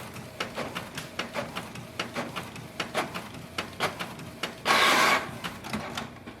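Canon Pixma G6000 inkjet printer running a nozzle check, a rhythmic series of soft mechanical clacks and whirs at about two per second, then a louder hissing burst around the fifth second before the ticking resumes, no talk.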